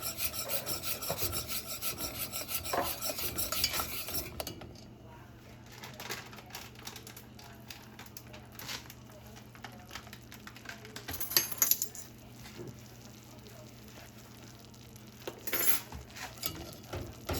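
A pot stirred over medium heat while making sweets, giving a continuous close rasping scrape of spoon against the pot, louder at the start, with occasional clinks and sparse dull knocks and no talk.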